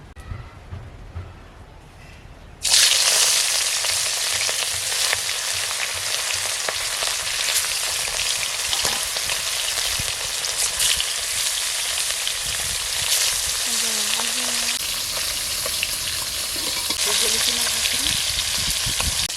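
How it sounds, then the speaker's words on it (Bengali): Mrigal fish pieces frying in hot oil in a village kitchen, a loud continuous sizzle that starts abruptly as the fish goes in and holds steady and close throughout, no talking. "এবারে একে একে মাছগুলোকে ভেজে নেব।"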